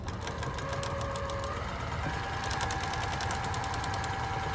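A home sewing machine stitches a seam on a crumb-pieced postcard project, a steady continuous mechanical whir with rapid needle ticking that runs throughout and picks up a brighter, faster rattle partway through.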